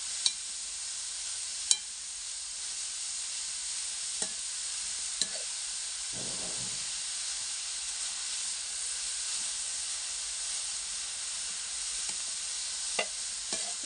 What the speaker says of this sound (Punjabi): ਲਓ ਜੀ, ਹੁਣ ਆਪਾਂ ਇਹਨੂੰ ਚੰਗੀ ਤਰ੍ਹਾਂ ਝੱਸ ਲਵਾਂਗੇ ਘਿਓ ਦੇ ਵਿੱਚ ਗਾਜਰਾਂ ਨੂੰ।